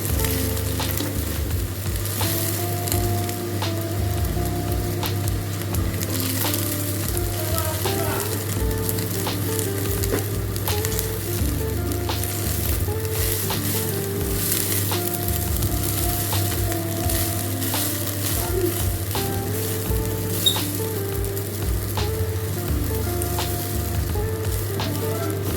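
Rice frying in ghee with whole garam masala, giving a continuous close sizzle with repeated stirring scrapes and light clatter throughout and no talk over it.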